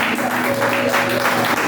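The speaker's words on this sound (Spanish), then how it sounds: "denle un aplauso al Señor" A church congregation gives a short burst of applause to the Lord during a Spanish-language sermon. The clapping is brief and steady, with sustained musical tones sounding beneath it.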